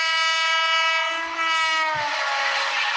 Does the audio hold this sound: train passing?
yes